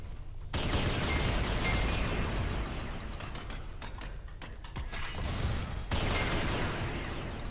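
Rare guns fire in the game SYNTHETIK 2, producing loud, continuous bursts of gunshots with clanking mechanical reload noises. A brief gap breaks the rapid fire twice before it resumes at close range, with no talking.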